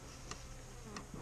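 Honey bees buzz softly in a hive in a low, steady drone, a quiet hum of many bees close by on the frames.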